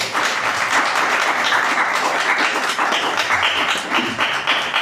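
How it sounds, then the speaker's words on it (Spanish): Church congregation applauding together, a dense, steady wash of many hands clapping close and loud for the full stretch, with a few faint voices mixed in. "De un aplauso a Dios."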